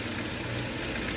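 A Toyota engine idling roughly and misfiring after its battery was disconnected, a steady, close, uneven engine drone with low knocking pulses and no talk.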